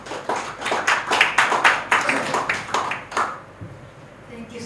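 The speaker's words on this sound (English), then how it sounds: "Another round of applause to Dr. Sangeti for a very educating session." A conference audience claps after a scientific presentation on endoscopy, with a burst of applause lasting about three seconds that then fades out into quiet room tone.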